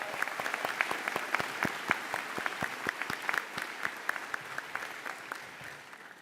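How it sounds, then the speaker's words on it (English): Applause from the audience at a university graduation ceremony in Daytona Beach: many distinct claps ringing out in a large hall, strong at first and thinning slightly over several seconds, with no talk over it. "I would like to offer them a round of applause as well."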